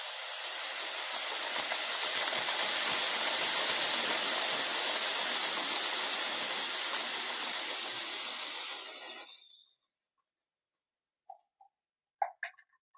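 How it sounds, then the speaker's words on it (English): Liquid nitrogen boils rapidly in a spinning bottle motor at a science festival show, giving a loud, steady rushing hiss of escaping gas for about nine seconds that cuts off abruptly, followed by silence and a few faint clicks. "It boiled rapidly, and when you have gas pushing one way, you're going to go the opposite way."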